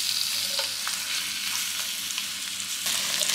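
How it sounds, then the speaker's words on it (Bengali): Onion slices frying in mustard oil with chopped ginger, garlic and chilli, giving a continuous close sizzle with occasional stirring scrapes and no voices. "একটু কয়েক সেকেন্ড নেড়ে নিয়ে পেঁয়াজ স্লাইসটাও দিয়ে দিলাম।"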